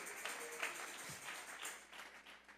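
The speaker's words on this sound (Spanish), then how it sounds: "Vamos a regalarle ofrenda de palmas al Dios de la gloria" A church congregation clapping together as an offering of praise, a faint, distant, rhythmic patter of many hands that fades toward the end.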